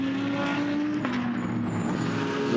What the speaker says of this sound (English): now you can hear the engines really getting going again